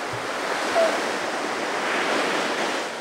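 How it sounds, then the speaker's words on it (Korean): Ocean surf at Yangyang beach in Gangwon, a surfing spot, roars as a steady, broad wash of breaking waves close by, with wind noise across the microphone and no talk. "이거 생각보다 파도가 높습니다"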